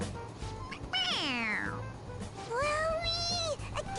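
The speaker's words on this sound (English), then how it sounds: "It meows when you press on its head." A toy cat in Persona 5 Royal meows when its head is pressed, giving two clear, drawn-out meows, the first falling and the second rising then dipping, close and with no talk.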